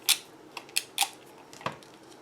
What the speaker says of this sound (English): Just using some scissors